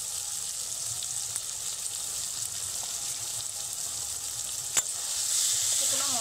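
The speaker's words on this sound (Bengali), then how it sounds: "শুকনো মশলাগুলোকে মাছের সঙ্গে কিছু সময় নাড়তে হবে" Prawns hiss steadily in a hot pan as they are stirred with dry spices, Kashmiri chilli powder and cumin powder, for prawn curry; a dense, even sizzle with a few faint scrapes and no talking.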